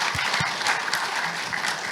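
A panel audience at a game industry conference claps in a brief burst of applause, dense and steady, with a faint voice under it.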